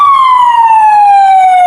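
An emergency siren sounds loud and alone as a single steady wail whose pitch slides slowly downward, likely from an ambulance.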